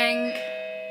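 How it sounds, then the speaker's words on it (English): A doorbell chimes at home, a single bright ding-dong with a sustained ringing tone that decays slowly, fairly loud and heard alone. "Doorbell's ringing."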